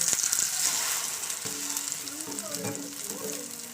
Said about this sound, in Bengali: তো ডিম ভাজা করবো, সেই কারণে তেল দিয়ে দিয়েছি অল্প করে।